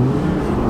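Chevrolet Colorado Xtream pickup truck engine accelerating, a steady close mid-low engine drone with audible intake sucking air, fairly moderate in volume and with no talk over it.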